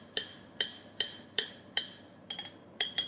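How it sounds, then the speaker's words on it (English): A handmade ball peen hammer striking hot metal on an anvil during blacksmithing: seven crisp, ringing blows at a steady, fairly quick rhythm, close and clear, the last few slightly softer. "Here he's using his handmade ball peen hammer to show how the metal kind of spreads around"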